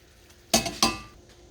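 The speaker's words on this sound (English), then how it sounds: "And stir that butter around." A spoon stirs butter into a sauce in a pan, making two sharp metallic clinks in quick succession, close and fairly loud against a quiet background.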